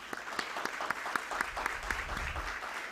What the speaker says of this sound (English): So let's begin this beautiful event with a huge round of applause.